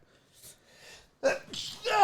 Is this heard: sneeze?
yes